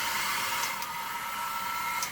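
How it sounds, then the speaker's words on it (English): A hair dryer runs on its high setting, a steady airy whir with a thin tonal whine over it, moderately close and continuous, with a couple of faint clicks. "this is actually a good hair dryer"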